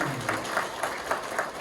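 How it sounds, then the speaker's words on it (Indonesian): An audience at a seminar on paying off debt claps together in a moderate, fairly distant burst of applause with rhythmic clap peaks, under a light murmur of voices. "Tepuk tangan buat Bapak Ibu semua."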